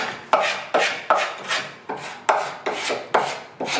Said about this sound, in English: So I'm just scraping in any direction, it really doesn't matter. It just takes off the peaks of paint.